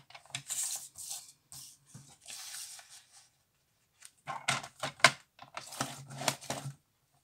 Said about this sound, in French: je plie. Je fais des plis